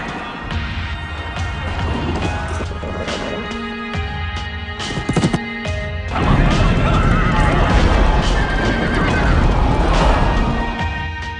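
Loud racing horses neigh and whinny over a rush of pounding hooves and crashing impacts, with a voice speaking underneath the busy, dense racket.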